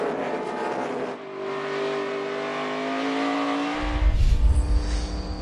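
NASCAR stock cars racing at Sonoma, engines rising in pitch as they accelerate, then a loud close roar of cars passing through a corner, with no voices over the engines.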